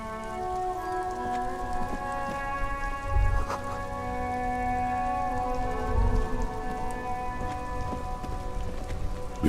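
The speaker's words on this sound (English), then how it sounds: "It's raining again." Rain falls steadily in the video game Disco Elysium, a soft continuous patter on surfaces with a couple of low thumps, layered under sustained ambient music tones.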